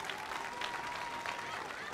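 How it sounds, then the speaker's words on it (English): A brief burst of audience applause at a school band concert, fairly faint and mixed with some crowd voices. "one more round of applause for Mr. Buchan and all his work last year"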